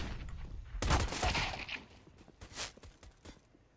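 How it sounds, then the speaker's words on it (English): Glock pistol shots in Counter-Strike ring out as a burst of sharp cracks near the start, followed by a few scattered single shots and faint clicks, with no talk. "goes for the Glock shots, and finds the pistol ace"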